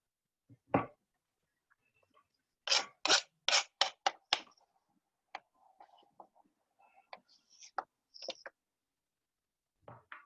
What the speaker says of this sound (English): I'm going to cut right in the middle.